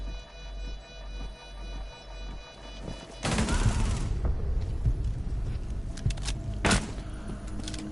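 SMG bursts during a competitive tactical shooter match: a sudden loud burst of rapid gunfire cuts in after a quiet stretch, with another sharp shot moments later, amid dense game noise.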